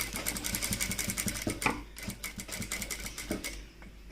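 A sewing machine stitches a puff sleeve blouse in quick, rhythmic bursts of needle clatter, pausing briefly and starting again, close and clear with no talk over it.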